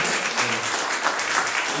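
A church congregation applauding during a baptism, a steady wash of clapping held at even strength throughout, with some murmuring mixed in.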